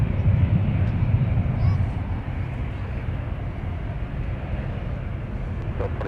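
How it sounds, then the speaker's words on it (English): Delta airliner flight 2246 bound for Las Vegas taking off from Minneapolis–St. Paul airport, a loud steady jet roar with deep rumble that swells at first and then holds as a broad, even engine drone. "That is Delta 2246 off to Las Vegas,"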